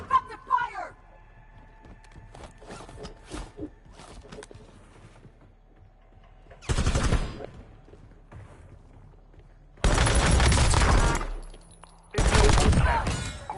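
Video game gunfire comes in three loud bursts of rapid automatic shots, near and harsh, separated by quieter stretches with footsteps and faint talk.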